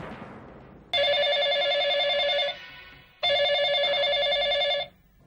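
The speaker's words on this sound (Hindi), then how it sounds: "फोन क्यों नहीं उठा रही हो? नहीं करण, बजने दो।" A telephone rings twice, each ring a long electronic trill, separated by a short pause; loud and close with no talking.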